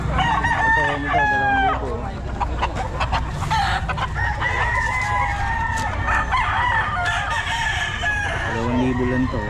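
Roosters crowing repeatedly at a busy chicken market, several long calls overlapping amid constant crowd chatter and clucking, with people bargaining in the background.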